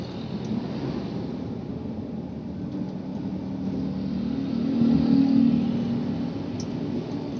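A manual car's engine hums steadily at close range, then swells in a brief rev as the gas is added for second gear and settles back to a low drone.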